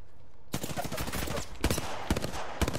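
Sniper gunfire in the game Apex Legends cracks out in a few sharp, close bursts, loud and separated by short gaps amid busy game noise.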